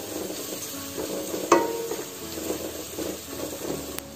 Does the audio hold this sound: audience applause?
no